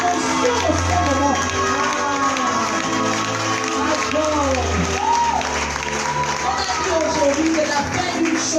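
A conference audience at an evening plenary cheering and acclaiming, a sustained crowd roar of shouts, claps and excited voices over a steady low musical hum.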